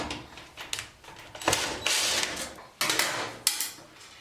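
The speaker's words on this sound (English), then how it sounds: "we're going to open this screw" A screw being unscrewed from the back panel of a clothes dryer, a series of short scraping and clicking mechanical bursts with brief pauses between turns, close and fairly loud, no talk.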